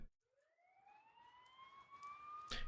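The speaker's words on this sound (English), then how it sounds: "You hear sirens nearby" Faint rising siren wail in the video game Persona 4 Golden, a single tone sweeping upward and holding, heard nearby against near silence for under three seconds.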